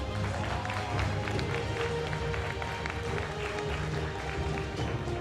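An audience at a Korean national armwrestling championship claps steadily for the prize winners on stage, a dense, even patter of applause that holds at moderate volume for several seconds.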